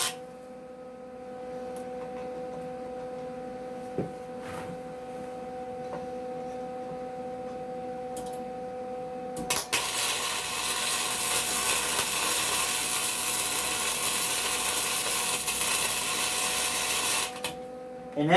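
A small 110-volt welder working on a riding mower transaxle: a low electrical hum at first, then a steady loud crackling, hissing arc for about eight seconds before it stops, close up with no talk.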